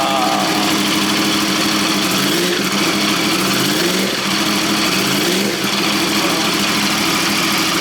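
A Yamaha R1 sport motorcycle engine, just overhauled and freshly started, idles loud and close with a rough, pulsing rumble and slight wavers in pitch throughout.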